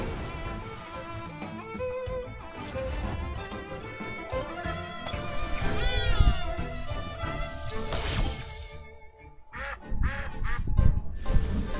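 Duck-like creature Tuwai calling in the video game TemTem, quacking cries set over busy game music and effects, fairly loud throughout.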